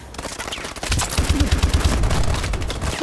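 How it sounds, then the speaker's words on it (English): Missile strikes and heavy gunfire in Call of Duty: Advanced Warfare exo survival mode, a loud continuous barrage of booming blasts and rapid shots with dense low rumbling throughout. "Friendly missile strikes inbound."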